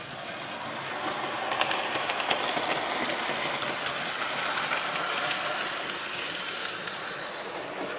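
A small model railway tank engine pulling a sand train runs steadily, producing a continuous close rumble with faint clicking wheel noise throughout.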